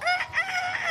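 A rooster crows once, a short, bright, strained call heard fairly close and alone.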